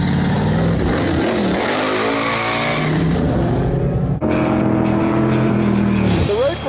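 Race cars running the final group of the BF Goodrich Hot Lap Challenge on a technical autocross-style course roar steadily at close range, engines revving and shifting, with a brief lull before another car passes; voices are heard under the engines.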